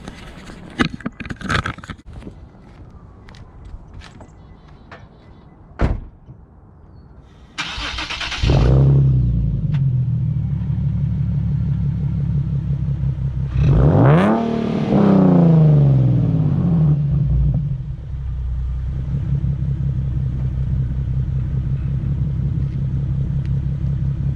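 A Nissan 370Z Nismo fires up with a loud starter crank and catch, settles into a deep rumbling idle, then gives one sharp rev that rises and falls back to a steady idle. Scattered handling knocks come before it; no one speaks.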